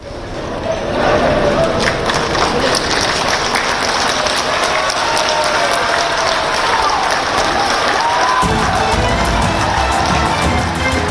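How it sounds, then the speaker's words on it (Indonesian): Loud, dense applause and cheering from members at a PDI Perjuangan party congress in Bali greet politician Hasto Kristianto, a continuous crowd roar with voices mixed in throughout. "Kehadiran politikus PDI Perjuangan Hasto Kristianto disambut riuh tepuk tangan dari anggota Kongres PDIP"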